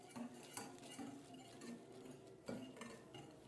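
Cornmeal and other dry ingredients are whisked together in a mixing bowl, giving faint, quick metallic clinks and soft stirring scrapes at close range.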